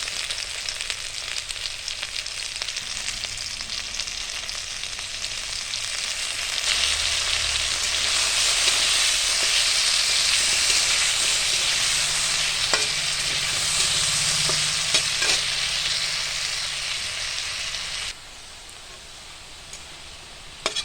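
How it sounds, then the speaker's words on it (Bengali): Potatoes fry in oil with a steady, close hiss that swells midway and drops off sharply near the end, with a few light scrapes. "আলুগুলি ভাজা হয়ে গেল, এখন আমি নামিয়ে নিব।"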